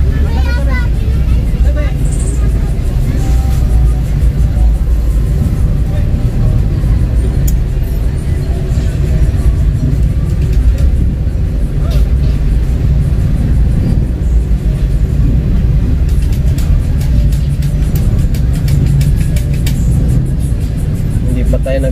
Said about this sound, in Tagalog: sabak pa tayo sa traffic na ganito